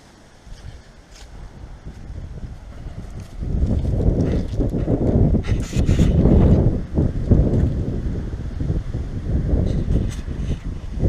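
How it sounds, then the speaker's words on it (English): Gusty wind buffets the microphone, a low rumbling roar that rises sharply partway through and stays strong, with no voices. "since it's windy today"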